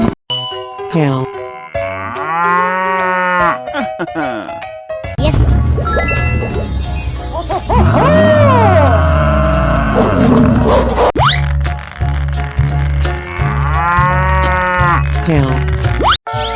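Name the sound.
cow mooing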